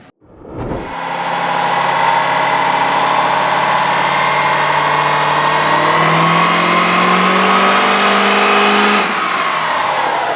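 An L5P Duramax diesel with a 67mm VGT turbo roars at full power on a dyno, a loud sustained drone that climbs steadily in pitch and holds for several seconds before cutting off.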